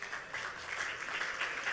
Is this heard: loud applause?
yes